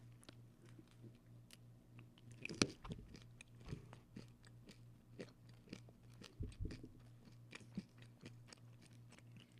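Close, quiet chewing of a brownie with a crunchy layer, giving soft irregular crunches and bites with a couple of sharper bursts over a faint steady hum.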